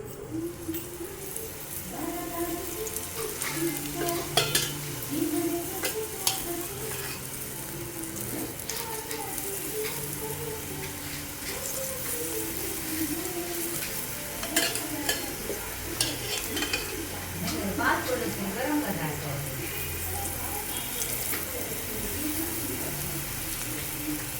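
Potato slices frying in hot oil in a pan for crispy potato fries, a steady close sizzle with intermittent stirring and scraping clinks throughout.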